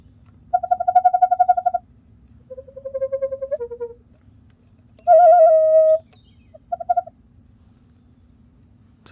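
A small flute imitates bird calls in a few separate bursts: warbling trilled notes, a sliding tone, then a long steady whistle and a short final chirp, clear and close over a low hum.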